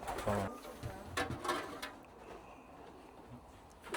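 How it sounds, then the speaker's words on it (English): Fancy pigeons in a breeding loft give soft low coos, clearest in the first two seconds, then fade under quiet room noise with a faint knock. "At the minute, this is our fancy pigeons"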